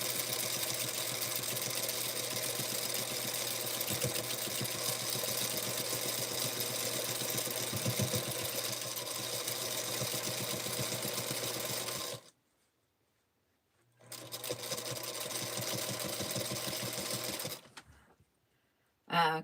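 A sewing machine quilting fabric runs in a fast, steady mechanical whir with rapid ticking, close and loud for about twelve seconds, then stops, starts again for several seconds, and stops once more.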